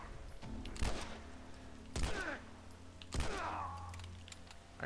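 Three spaced gunshots ring out in The Last of Us, each a sharp crack with a short echoing tail, fairly faint against quiet ambience.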